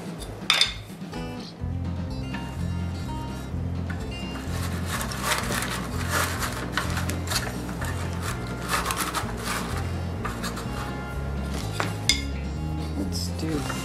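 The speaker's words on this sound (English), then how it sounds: "let's add a couple wooden spoons" Wooden spoons clink and knock as they are set into a farmhouse-style cheese grater holder. The light rattles and taps come close and irregular, with a voice talking throughout.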